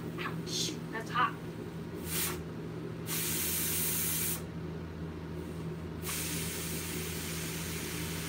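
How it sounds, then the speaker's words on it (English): Steam vents from a pot of cooking rice in an RV kitchen, loud hissing bursts that come and go, with one long sustained release in the middle over a low steady hum. "I gotta let the steam off."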